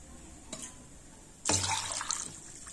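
Water poured into semolina in a bowl: a faint drip, then a short burst of splashing and trickling, close and quiet.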